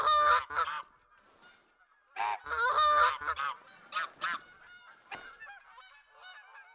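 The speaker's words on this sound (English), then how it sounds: "Tundra bean goose. You are exactly what I'm looking for" Tundra bean geese honk loudly and nearby in theHunter: Call of the Wild, coming in bursts of overlapping nasal calls with short pauses between them and a few fainter honks trailing off.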